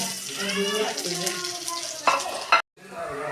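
Garlic, dried red chillies and curry leaves sizzle in oil with popping mustard seeds, a crackling fry with a couple of sharp pops, partly under a voice.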